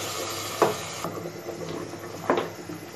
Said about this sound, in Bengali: এবার এটাকে আমরা আমাদের রান্না করে নেওয়া পায়ার মধ্যে ঢেলে নিচ্ছি।